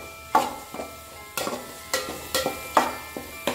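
Chopped ripe tomatoes sauté in a pan for spicy crab masala, a spoon scraping and stirring in regular strokes, six or seven close rasps over a soft sizzle.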